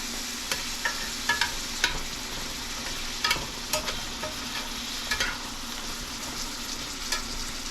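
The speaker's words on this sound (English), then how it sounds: "Move these mushrooms around a little bit." Mushrooms fry in olive oil in an iron skillet beside salmon, a close steady sizzle broken by scattered clicks and scrapes as they are pushed around the pan, with no voices.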